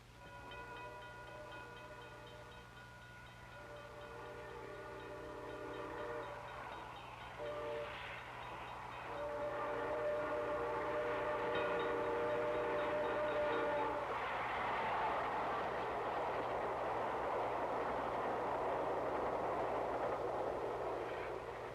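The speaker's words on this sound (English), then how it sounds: "The train's coming." A train rolls by with horn or whistle tones sounding in several bursts, then a rising rumble of rail cars passing, heard from a moderate distance under a steady low hum, with no talk.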